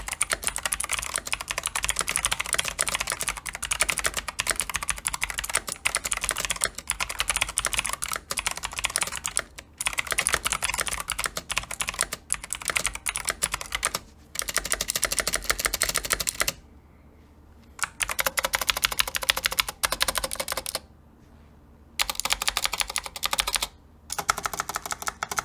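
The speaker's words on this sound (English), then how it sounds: "they have those green clicky switches from Razer" Fast continuous typing on a Razer wireless keyboard fitted with green clicky switches, crisp dense key clicks near the microphone, with a few brief pauses and no speech.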